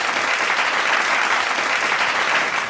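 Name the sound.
audience applause at a poetry stage event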